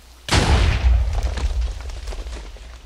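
A TNT cannon fires in Minecraft with a sudden loud boom, then a long rumbling, crackling tail of blast noise that fades slowly over a few seconds.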